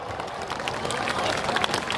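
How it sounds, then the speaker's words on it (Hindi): A large crowd at the Buxar Mahayagya claps to welcome a singer, a dense, steady roar of applause with scattered sharper claps and crowd murmur beneath. "दोनों हाथ ऊपर उठा के स्वेच्छा से ताली बजाइए"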